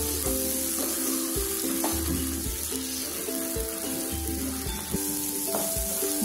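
Soaked moth beans fry in masala with a loud, continuous sizzle, and a spoon stirs them repeatedly, adding regular scraping and knocking strokes against the pan up close.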